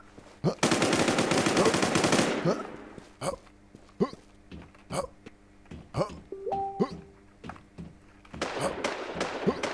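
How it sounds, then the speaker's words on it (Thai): Gunfire in the online survival shooter WarZ: a loud sustained automatic burst, then scattered single shots spaced a second or so apart, and another rapid volley at the end, with a player talking briefly between them. "จากไหนยิงวะ"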